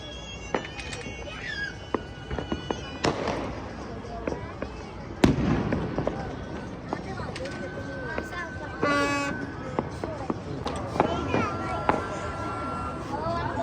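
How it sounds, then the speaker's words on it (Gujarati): Sky shot fireworks going off in Ahmedabad during Uttarayan, with pops and bangs scattered at varying distances, one loud nearby burst, amid street noise, car horns and people talking. "અમે લોકો પણ સ્કાય શોટ હવે ફોડી રહ્યા છે."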